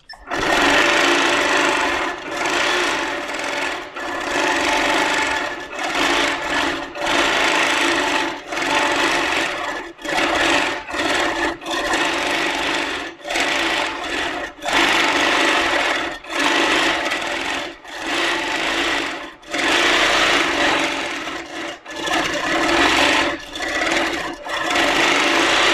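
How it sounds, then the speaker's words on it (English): A Handi Quilter moveable longarm sewing machine stitches free motion quilting in a showroom, a close, steady, rapid needle chatter that runs in long bursts separated by brief pauses. "I'm going to go back to doing some free motion quilting"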